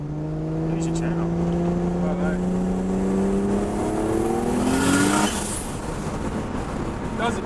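A VL car engine accelerates at half throttle, a loud steady rising tone that climbs through the rev range for about five seconds before easing off, with background road and wind noise.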